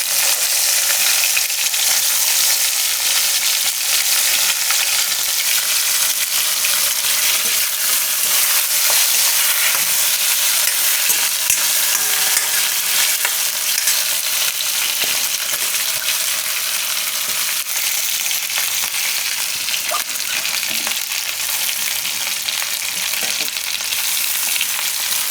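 Sweet potato added to hot oil with asafoetida for a Gujarati methi sakkariya shaak, producing a loud, dense, continuous sizzle and frying hiss close by, with faint stirring scrapes.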